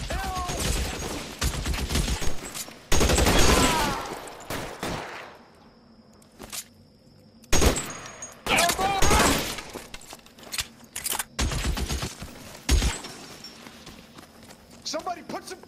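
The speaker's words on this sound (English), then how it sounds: "Somebody put some fire on that guy!" Bursts of gunfire ring out in the video game L.A. Noire, rapid clustered shots alternating with quieter gaps, mixed with in-game voices shouting.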